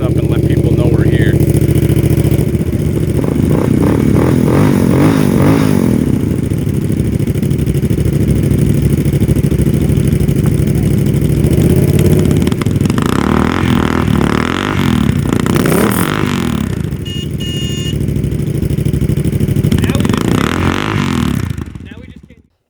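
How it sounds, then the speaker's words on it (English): KLR650 dual-sport motorcycles started up and revved at an overnight moto camp, engines idling and rumbling loudly with repeated revs, while people talk over them before the sound cuts off. "So we're gonna start some bikes up and let people know we're here."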